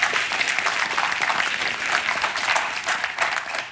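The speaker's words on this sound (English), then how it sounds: "Can we get a round of applause for Children of Youth?" A sustained round of audience applause at a popup art exhibit, dense and even clapping from a room of people, loud and continuous throughout with no voices over it.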